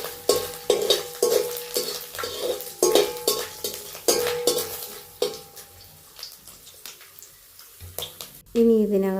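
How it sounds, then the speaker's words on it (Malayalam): Coconut pieces fry in hot oil for a beef curry, a close sizzle with rhythmic scraping strokes of a spoon against the pan, then a voice starts speaking near the end. "എണ്ണയൊന്ന് ചൂടായി വരുമ്പോൾ തേങ്ങാക്കൊത്ത് ഇട്ട് കൊടുക്കാം."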